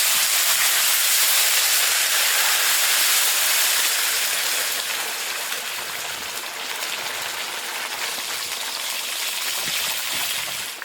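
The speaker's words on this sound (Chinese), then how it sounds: "加入开水。" Boiling water pours into fried seasoning and red chili oil in a large iron wok, a loud, steady rushing hiss and steam roar that fills the whole stretch, easing slightly partway through.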